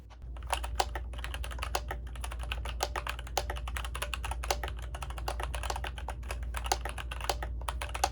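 Typing on an ilovbee i87 mechanical keyboard with unlubricated switches that have a slight springy ping, a steady stream of close, crisp keystrokes at a quick, uneven rhythm with no talking.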